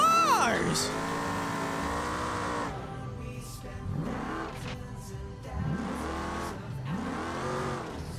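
Cars in the racing game BeamNG.Drive drive and rev, with engine pitch repeatedly sweeping up and falling as they accelerate, loud and continuous, while a voice talks over part of the sequence.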